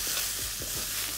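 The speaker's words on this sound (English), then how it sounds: "You want to stir fry that through and give it a couple of flicks through." Ginger and garlic with onion stir-frying in hot oil in a wok, a brief continuous sizzle with a few quick stirring strokes close by.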